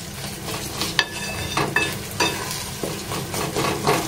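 Semolina sheera mixture, with banana melted in, is stirred and roasted in a pan, with a series of close scraping strokes and clinks of the spoon over a soft continuous sizzle.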